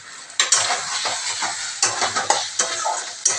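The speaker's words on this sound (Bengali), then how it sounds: "ভাজা ভাজা হয়ে আসছে মাংসটা" Young goat meat fries in a pan with homemade ghee, a loud crackling sizzle broken by repeated scraping strokes of a spoon stirring it, close up and without speech.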